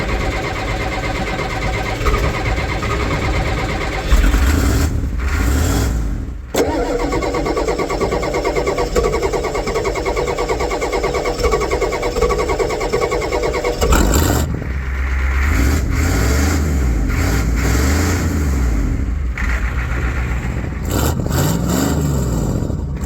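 A Ford 7.3 IDI diesel with its exhaust cut off cranks and fires, then runs loud and rough with a clattering beat. The engine revs, drops off briefly and carries on.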